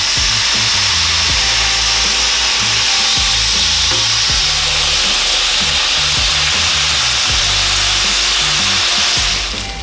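Bacon frying in a pan with no added fat, a loud, dense crackling sizzle filling the whole stretch with a low hum beneath, no voices.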